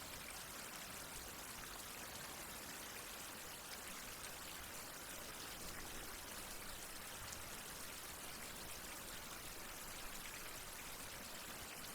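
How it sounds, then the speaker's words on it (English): Rain falls steadily in the survival game Survival: Fountain of Youth, an even, unbroken hiss of water with no voices. "I'm surprised, like, how often it's raining now"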